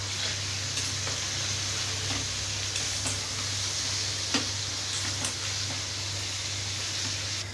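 Vegetables with tomato, chillies and spice masala fry in a pan with a steady, even sizzle and occasional small ticks and pops over a low hum, heard alone without talk.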